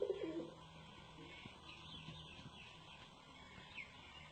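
Pigeons cooing, faint and distant, in soft low calls over a steady background hum and hiss, with no talk.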